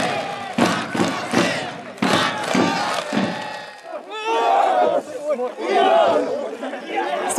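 A crowd of more than a thousand fans at a baseball players' retirement ceremony, clapping hard for a few seconds and then cheering and shouting, with the applause and voices overlapping into a dense, loud, steady roar.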